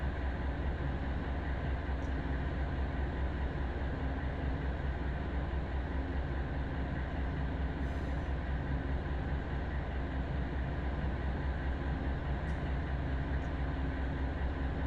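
A freight container train in Run 8 Train Simulator rolls steadily from Barstow, giving a continuous low rumble and wheel noise with no talk and a few faint high squeaks.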